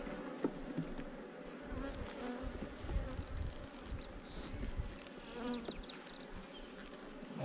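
Dense, steady buzzing of many honeybees right up close in an open hive during an inspection, a continuous droning hum with occasional faint knocks and scrapes as frames are moved.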